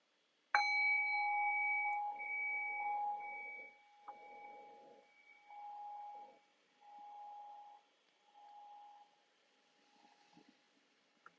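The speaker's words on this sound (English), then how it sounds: "So I'll ring the bell again, and I'll guide our 20-minute body scanning practice." A meditation bell is struck once and rings out clearly, its pure tone pulsing and slowly fading over about ten seconds in a quiet room.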